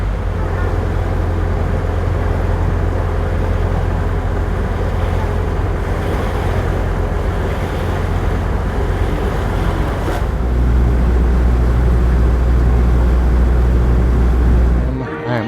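A boat's engine drones steadily on a dark early-morning cruise toward Magic Kingdom, with rushing water and wind noise, a loud continuous rumble that shifts slightly partway through.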